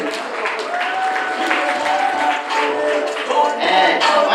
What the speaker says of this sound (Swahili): tumpigie makofi yake